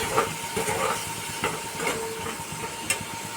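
Spice paste frying in a pan over medium heat with a little water added, for a vegetarian dish: a steady close hiss with small crackles and sputters throughout, no talking.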